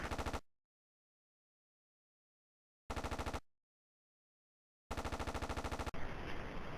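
Aircraft machine gun bursts in the Aces High flight combat game: a short rattling volley, then a second brief burst after a pause, and a longer sustained burst ending in a noisy crackle. Loud, with silence between bursts and no talking.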